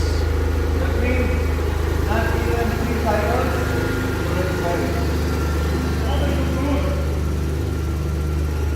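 A Mitsubishi 3000GT VR4 engine idles at its first startup after work, a steady close rumble running throughout while people talk over it.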